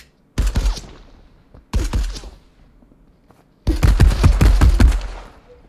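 Automatic gunfire from the video game Marauders comes in three loud, close bursts of rapid shots. Two short volleys with brief gaps lead into a longer, sustained final burst.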